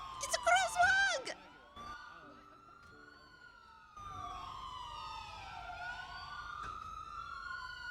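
Police sirens in the video game GTA RP Nopixel wail and sweep in overlapping tones, fading in and out at mid distance, with a burst of speech over them at the start.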